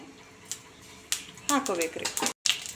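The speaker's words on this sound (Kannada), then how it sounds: "ಈಗ ಎಣ್ಣೆ ಕಾದೈತಿ ನಾವು ಸ್ವಲ್ಪ ಸಾಸಿವೆ ಸ್ವಲ್ಪ ಜೀರಿಗೆ" Mustard seeds and cumin sizzle in hot oil while breakfast rice rava upma is being cooked. A steady crackling hiss with sharp spitting bursts runs close by, and a person talks over it.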